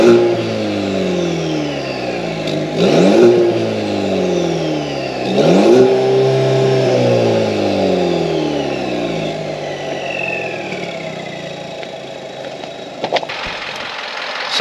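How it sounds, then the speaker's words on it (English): A Chevy Silverado's turbocharged four-cylinder engine revs up twice in strong rising-and-falling surges, heard from inside the cab, with a faint turbo whistle over the low rumble. "Definitely can hear that turbo whistling."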